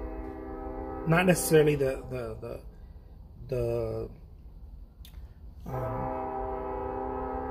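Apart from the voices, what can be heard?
passing train with horn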